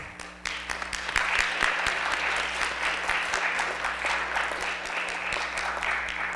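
An audience claps continuously, a full crackle of hands that starts abruptly and stays steady, with a low hum underneath.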